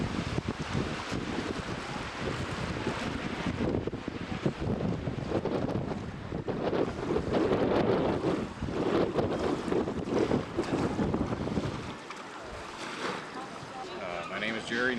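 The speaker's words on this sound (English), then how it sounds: "It's windy out there today." Strong wind gusting across a lakeside seaplane fly-in, loud buffeting rumble on the microphone throughout, easing somewhat near the end.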